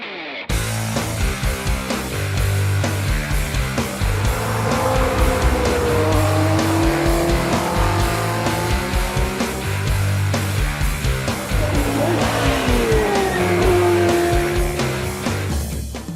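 Lotus Elise Trophy race cars lapping the Brands Hatch Grand Prix circuit in slippery conditions, engines droning steadily and loud throughout with rising and falling pitch as cars pass, no talk.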